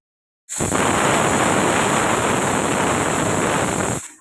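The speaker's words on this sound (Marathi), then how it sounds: "कुकरच्या मी ही 4थी शिट्टी आहे." Pressure cooker on a gas stove releasing steam through its whistle: a loud, continuous hiss that starts abruptly, holds steady for about three and a half seconds, then cuts off.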